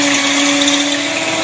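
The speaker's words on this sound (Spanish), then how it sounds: "Aquí vamos a batir el huevo, miren. 6 huevos." Electric mixer whirring steadily at high speed while beating six eggs for shrimp patties, a constant close motor whine with no talking.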